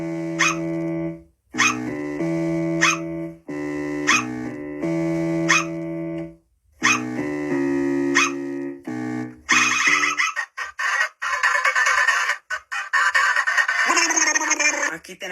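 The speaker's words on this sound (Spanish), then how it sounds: "Aquí tenemos a Grey y a Wenda con el bajo y los ladridos de perro." Sprunki video game music with a repeating bass line and cartoonish dog barks in short rhythmic bursts, giving way to a harsher, noisier stretch near the end.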